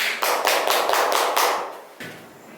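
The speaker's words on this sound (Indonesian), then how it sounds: "Beri tepuk tangannya para hadirin." An audience at a presentation in Surabaya claps for a speaker, a burst of close, loud crowd applause that fades, then breaks off and resumes more quietly.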